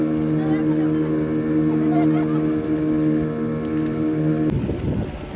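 A motorboat drives along on a sea outing, its engine holding a steady, close droning hum under people talking. Near the end the tone gives way to a sudden rush of wind and water.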